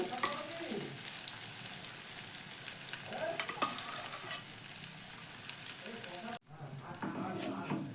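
An egg-topped paratha fries in a pan with a continuous close sizzle and crackle, while a voice is faintly heard now and then over it and the sound cuts out briefly near the end.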